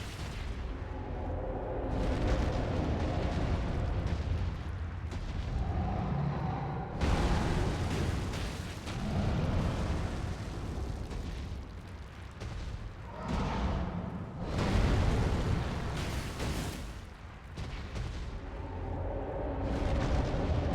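Fire attacks and explosions in an Elden Ring–style action game, a run using only Dryleaf Arts at level 1, form a dense, continuous roar of blasts and crackling bursts that swell and surge repeatedly for about twenty seconds, loud and without speech.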